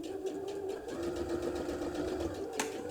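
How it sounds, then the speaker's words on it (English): Sewing machine stitching a zipper bow clutch, a steady close whirring hum with rapid needle clatter, briefly punctuated near the end by a sharp click. "And then we're just going to sew down."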